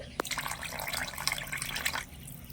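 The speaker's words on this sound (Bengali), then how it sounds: "আর সাথে দিয়ে দিচ্ছি জল" Water poured into a bowl of flour and white oil while mixing Dhakai paratha dough, a steady splashing pour lasting about two seconds after a short knock, then stopping.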